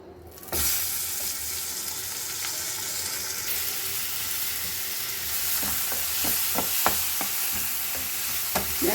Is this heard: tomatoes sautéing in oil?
yes